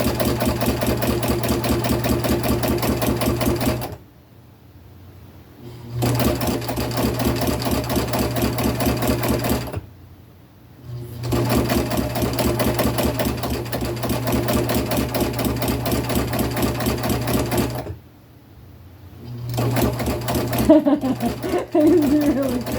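Sewing machine with a free-motion (free hand) foot stitching in long, steady runs of rapid needle rhythm, stopping twice for short pauses before starting again, with the machine loud and close.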